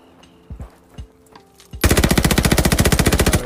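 A few single muffled shots are followed by a loud, rapid, steady burst of automatic fire from a Type 100 submachine gun in Call of Duty: Vanguard.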